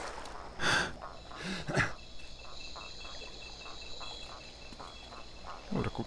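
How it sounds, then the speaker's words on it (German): Frogs croak in a forest beside a waterfall in the video game Dark Project, with repeated rhythmic calls over a constant hum of ambient noise and a few louder croaks standing out. "Man hört die Frösche quaken."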